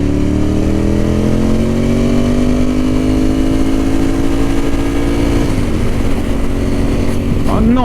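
A Ducati 916 motorcycle engine runs slightly hotter than normal, droning loudly and steadily as it accelerates with a smoothly rising pitch. It blips and settles near the end, and a voice talks over the engine.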